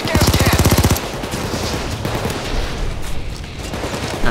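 Rapid automatic gunfire crackles in a PayDay 2 heist shootout, a fast burst of shots up front followed by scattered, busier gunfire and game noise for the rest.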